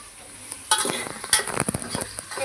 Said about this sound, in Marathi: कांद्याला आपण छानसं भाजून देऊया. त्याच्याबरोबरच आपण टमाटर पण घालूया,